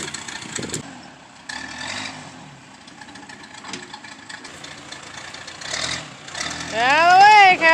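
A tractor engine rumbles out in a farm pasture, a medium, steady drone with knocking under it that grows louder near the end, while a person talks over it.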